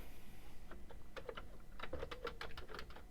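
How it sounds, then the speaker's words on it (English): Keys on a Commodore 64 computer keyboard are pressed in a quick, irregular run of light clicks, close but quiet over a faint background hum. "Let's see if the keyboard works."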